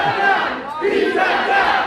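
A wrestling crowd at a live match erupts in loud, sustained cheering and shouting, a dense wall of voices holding steady for about two seconds and dipping briefly midway.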